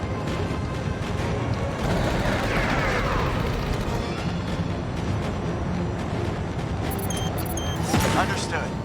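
Slow-firing gatling guns on a mech in the game Mecha Knights: Nightmare, a continuous dense rattle of heavy fire with booming impacts, loud and steady throughout, with a few electronic beeps near the end.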